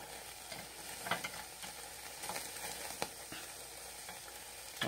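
Meat sizzles steadily on a Japanese tabletop barbecue grill, a soft continuous crackle with a few sharper pops and light utensil clicks, fairly quiet and with no talk.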